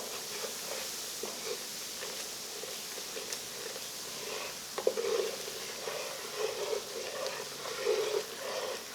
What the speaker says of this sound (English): and you're going to keep stirring.